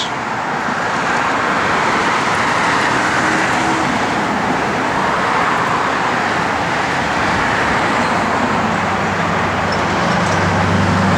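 A 1967 Chevrolet Chevelle SS Super Sport is on the move, giving a continuous, loud drone of engine and road noise that stays steady for about eleven seconds, alone with no voices.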